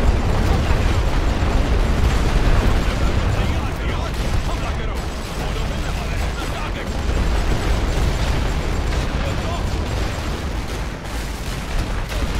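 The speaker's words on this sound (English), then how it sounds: "There's a heavy artillery barrage coming in." Heavy artillery barrage in a WWI Western Front strategy game, Verdun: a dense, continuous roar of overlapping explosions and rumbling blasts that never lets up, loud and close throughout.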